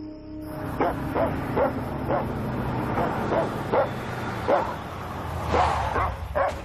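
A dog barks in a rapid series of sharp yips mixed with whimpers, mid-distance, in a tense film scene with rumbling background sound and voices.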